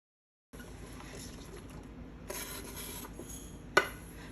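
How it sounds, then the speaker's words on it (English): Hands work seasoning into raw oxtail meat for Jamaican oxtails, making close, soft, continuous rasping friction with a brief sharp knock near the end. "I'm just ensuring that I'm get the seasoning all rubbed into the tissue of this meat."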